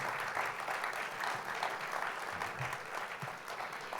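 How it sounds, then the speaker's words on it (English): Sustained applause from an audience at an education awards ceremony in San Diego: a dense, steady wash of clapping hands that holds evenly throughout, with no voices over it. "can I give you folks a round of applause for the great work you're doing?"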